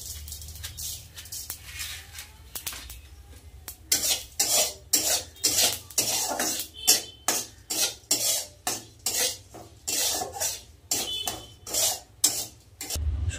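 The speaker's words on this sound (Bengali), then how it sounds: "শুকনো খোলায় জিরে আর শুকনো লঙ্কা ভেজে নিলাম" Cumin seeds and dried red chillies dry roasting in an empty pan, heard as a steady run of sharp scraping and clinking strokes from a spoon stirring against the metal, close and rhythmic, with a faint low hum underneath.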